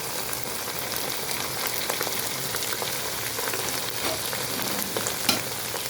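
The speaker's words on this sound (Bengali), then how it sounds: "এই পর্যায়ে আমি অন্যান্য মশলা অ্যাড করছি দিয়ে দিচ্ছি গুঁড়ো মশলা ও লবণ" Ground spices and salt fry for chicken biryani, a continuous crackling sizzle with scattered stirring scrapes and pops, close and steady.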